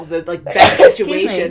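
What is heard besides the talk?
sneeze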